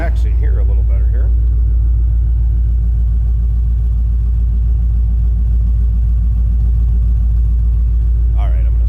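A 2010 Ford Mustang GT V8 idles from the rear with a loud, constant low exhaust rumble, steady and pulsing, with a voice only briefly at the start and end.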